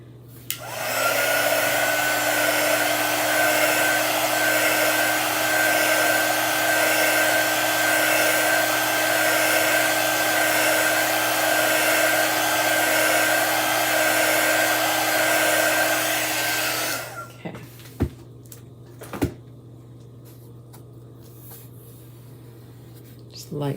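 A hair dryer blasts steadily for about seventeen seconds to dry chalk paste on a craft surface, then shuts off, leaving faint handling taps over a low background hum.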